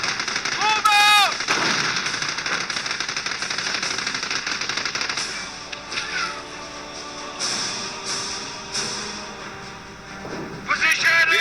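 Dense gunfire and artillery in a Company of Heroes battle, with machine-gun bursts, heavy booms and steady crackling shots layered continuously, punctuated by shouted unit voice lines.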